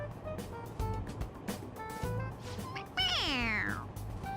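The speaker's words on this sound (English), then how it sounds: "It meows when you press on its head." A single drawn-out meow from a cat toy pressed on its head in the video game Persona 5 Royal, rising and falling over a low rumbling background.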